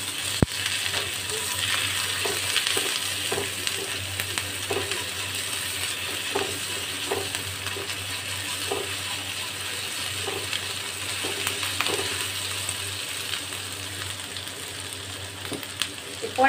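Garlic paste fries in oil for chili mushroom, a low steady sizzle running throughout, with a faint hum and occasional soft taps or scrapes at irregular intervals.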